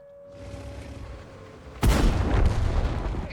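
In a tank video game, a cannon shot hits a VZ-111 tank with a sudden loud boom about halfway through, followed by a rumbling roar that stays loud to the end.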